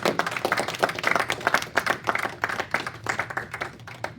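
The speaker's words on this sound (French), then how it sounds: "Nous acclamons très fort pour nous" A church congregation applauding loudly, dense, rapid clapping from many hands that holds steady and close throughout.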